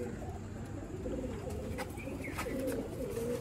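Sialkoti pigeons coo in a steady, low, throaty murmur, with several overlapping birds heard close by against a constant background hiss.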